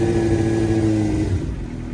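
A Suzuki motorcycle engine that had not been started for twelve years idles steadily nearby, a smooth low hum with an even, continuous tone that eases slightly toward the end.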